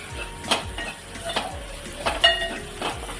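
A spoon stirs roasted gram flour with spinach masala in a pan, scraping and clinking in irregular strokes over a faint sizzle, close and fairly soft with no talk.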